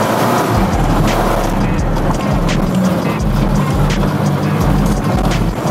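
Petrol car running on year-old fuel, engine revved and surging then dropping back on its own as it struggles to accelerate, a steady loud drone with uneven rises and dips.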